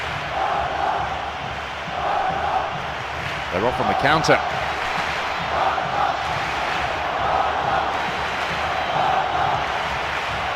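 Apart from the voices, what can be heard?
football stadium crowd reacting to a yellow card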